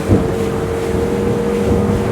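Dromeas 28WA day boat, a Turkish-built single-engine craft, running hard at full throttle through choppy water: a loud, steady engine drone with wind buffeting and water rush, continuous and close.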